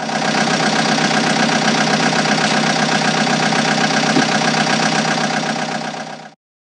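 A loud excavator engine drones steadily at an even pitch, then cuts off abruptly.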